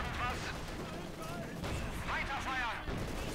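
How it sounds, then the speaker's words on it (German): Artillery fire rumbles and cracks in the Company of Heroes 2 battlefield, a dense continuous barrage of booms with voices talking over it throughout. "Artillerie schießen."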